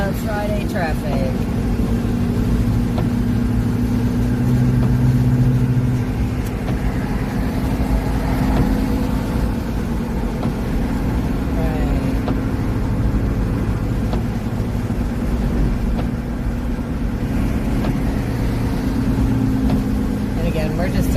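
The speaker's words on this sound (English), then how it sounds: "Traffic." Car engine and road rumble while driving in evening traffic toward Washington, D.C., a steady low hum throughout with people talking inside the car.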